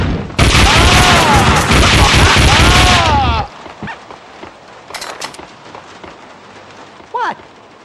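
Film action scene: a dense, loud burst of rapid gunfire for about three seconds, then quieter scattered impacts and shouting voices.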